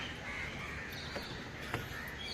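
Crows caw faintly and at a distance, two brief calls over a steady wash of outdoor city noise on the elevated nature trail walkway at Malabar Hill, Mumbai.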